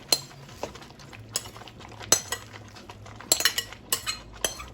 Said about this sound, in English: I'll give it a little bit of stir.